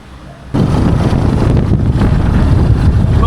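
Strong wind roars against the microphone while riding a lightweight scooter, starting abruptly after a quiet moment and then holding as a loud, steady rush.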